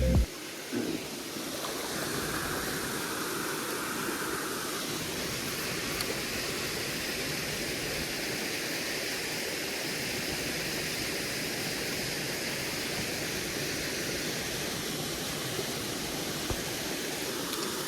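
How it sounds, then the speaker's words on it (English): Spring-fed waterfall gushing out of a cave in the Ozarks, a steady broadband roar of falling water that stays loud and even throughout, with no talking. "this beautiful, natural, coming out of the cave, spring-fed waterfall"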